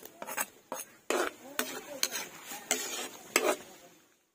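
Onions frying in butter and oil in a pan, with a soft sizzle broken by repeated scraping and stirring strokes of a utensil against the pan, close and fairly quiet, dying away at the end.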